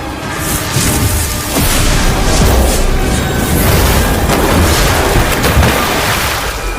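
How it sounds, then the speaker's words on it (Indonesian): A loud, sustained rumbling explosion effect in an animated fantasy story rolls on for several seconds as a dense roar with no speech over it. "Raja Iblis tewas meledak di tolak dunia dewa."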